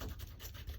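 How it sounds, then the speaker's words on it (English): Fingers rub dried glue off a paper journal page, giving soft, close, rhythmic scuffing strokes that are quiet and free of speech. "So this glue will just rub off here."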